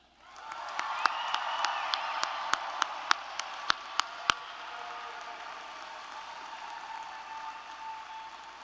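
Audience at a university graduation convocation applauds and cheers for the graduates: a loud burst of clapping and cheering, punctuated by a run of sharp, evenly spaced single claps over the first few seconds, then fading to a softer, sustained ovation.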